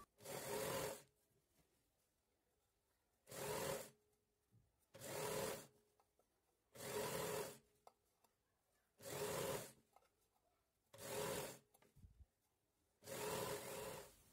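Sewing machine stitching around a dress collar in bursts, seven short runs of fast mechanical whirring separated by quiet pauses, close and clear.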